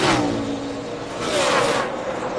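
NASCAR race trucks roar past on an oval racetrack, a loud sustained engine drone that swells and fades as they speed by, with no clear talk over it.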